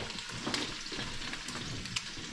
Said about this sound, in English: So it's slowly frying in the oil.